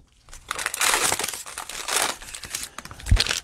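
Cellophane wrapping on a pack of football cards crinkles and tears as scissors cut it open, a close run of crackling rustles with a small thump near the end, no talk.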